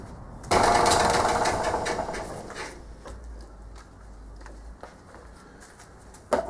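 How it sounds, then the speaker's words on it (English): A loud power sander whirs in with a sudden start on a wooden foot pattern, then settles into a steady grinding drone that fades slightly, with scattered knocks near the end. "now comes the boring part of sanding it clean"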